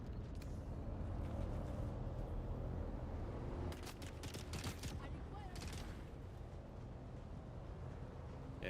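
Gunfire in the game Dune Awakening: dense rapid bursts of shots around the middle of the clip, layered over a constant rumbling game soundscape with loud low-end noise throughout.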